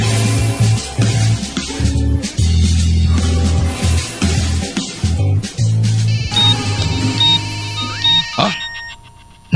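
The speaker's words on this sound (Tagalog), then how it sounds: "Nagaring ang cellphone ko." A cellphone ringtone plays as a steady electronic melody through a dramatic radio serial scene, mixed with background music and effects, with voices speaking around it.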